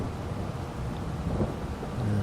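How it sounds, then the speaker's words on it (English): Rainy weather with a deep thunder rumble in Farming Simulator 22 on the Zielonka map, a steady broadband hiss with a low rolling growl that thickens toward the end. "And there's the thunder."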